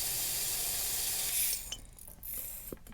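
A steady aerosol hiss sprays for about a second and a half onto Honda CBR1100XX Blackbird motorcycle parts, then cuts off, leaving quiet, faint clicks and rustling.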